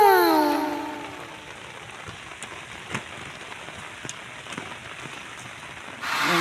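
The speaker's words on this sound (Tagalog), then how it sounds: "Umuulan-ulan na, pahuli pa." Steady rain falls beside a river during a fishing trip, a soft continuous patter with a few sharper drop taps, fairly faint, and a brief rising tone at the start.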